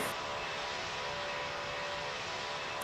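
An aircraft in the Roblox Pilot Training Flight Simulator game roars with a steady, even engine drone on takeoff, a constant broadband whine with no variation across the few seconds.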